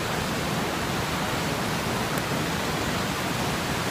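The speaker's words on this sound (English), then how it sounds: "you can see the fury of the water" The flooding Sugar River in New Hampshire surges in a loud, unbroken rush of churning water, a dense steady roar with no breaks and no voices.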